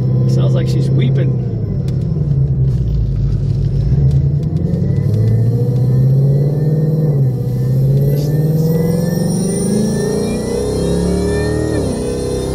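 A Whipple-supercharged 2024 Ford Mustang with a whine mod pulls under medium to heavy load, its engine rumbling and revving loudly with a rising supercharger whine, while people talk over it.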